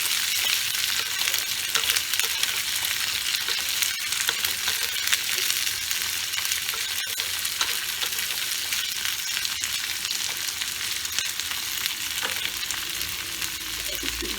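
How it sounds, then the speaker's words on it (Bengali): Potatoes and beans fry in a pan for a Bengali curry, making a constant close sizzle and crackle that is broken by several sharp stirring knocks, with no talk. "আলুটা কিন্তু একটু বেশি ভাজার পর বিনসটা দেবেন, তা নাহলে কিন্তু আলুটা ভাজা প্রপারলি হবে না"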